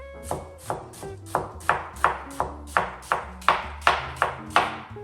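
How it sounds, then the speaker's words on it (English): A knife slicing onions in half on a cutting board for French onion soup, about fifteen evenly spaced sharp chops with ringing, close and clear with no talking. "we're going to slice our onions in half"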